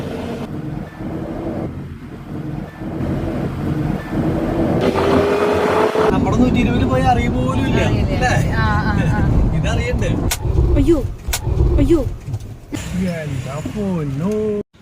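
Engine of a Mahindra Thar running and revving as it is driven, a continuous motor drone with shifting pitch, while people inside talk and exclaim excitedly over it.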